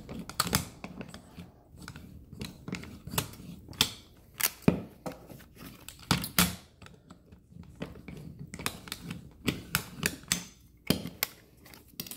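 Multi-cutter slicing through paper stickers for a button maker: a long run of sharp, irregular clicks and crunchy snaps, close and fairly quiet, some in quick clusters with brief gaps between.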